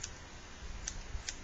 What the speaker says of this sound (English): You can take your scissors and just go